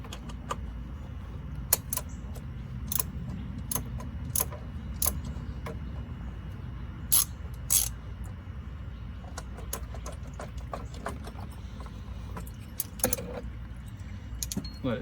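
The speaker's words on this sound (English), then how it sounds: "You get your ratchet." Ratchet on an oil filter socket with a small extension, loosening the filter on a 2008-2019 EZGO TXT golf cart with a 400cc Kawasaki engine, giving sparse, sharp metallic clicks in short bursts over a low background rumble.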